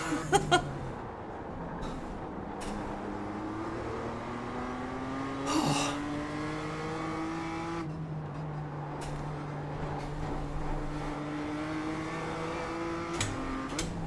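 Two BMW M2 race cars battling at Oran Park in the iRacing simulator, engines droning and revving steadily with gear shifts changing the pitch, a continuous mid-level engine note throughout.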